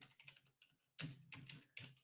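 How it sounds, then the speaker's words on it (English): Fast typing on a computer keyboard, quiet clicks at first and then louder bursts of rapid keystrokes from close by, with no voices. "typing fast for you."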